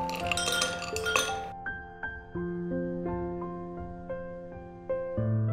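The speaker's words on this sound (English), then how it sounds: "Put some ice." Ice cubes dropped into a glass for a green apple cooler, several bright clinks and clattering knocks that ring with lingering glassy tones, close and fairly clear with no talking.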